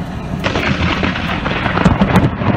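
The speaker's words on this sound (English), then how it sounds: "The South pummeled by severe thunderstorms." Heavy thunder from severe thunderstorms across the American South rolls in as a loud, continuous rumble with sharper cracks and bursts, and no voices over it.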